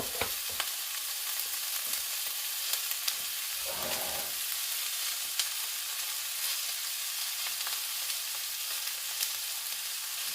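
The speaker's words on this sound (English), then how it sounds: "I'm going to let that simmer for a little bit" A pan simmering on a stovetop gives a steady, close, even sizzling hiss throughout, with occasional faint pops and a brief soft clatter partway through.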